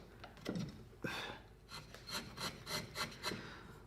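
A carving knife shaves along the edge of a wooden heart, giving soft, close scraping strokes in a steady rhythm of about eight repeated cuts, quiet and without talk.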